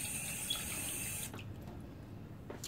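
Water runs and splashes from a tap into a microwave dish in a home kitchen, a steady close hiss that changes tone about halfway through as the flow shifts.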